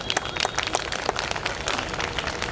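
Audience applause at a Hindi poetry recital, a dense wash of many hands clapping at once, steady and fairly loud throughout with no voice over it.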